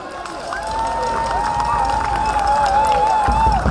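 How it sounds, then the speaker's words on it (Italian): Crowd applause at the opening of the 66th Muggia carnival, a steady outdoor wash of clapping and cheering with a sustained whistle-like tone riding over it, loud and continuous throughout. "un bel applauso prima di tutto"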